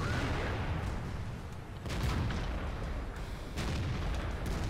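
Cannon shots from an ST-1 heavy tank firing premium rounds in the online tank game World of Tanks: a few heavy booms land over a dense, continuous rumble of battle noise.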